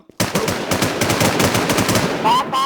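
Rapid automatic gunfire from a video game firefight in Infestation, bursts rattling continuously and loudly for nearly the whole moment with a brief pause near the end.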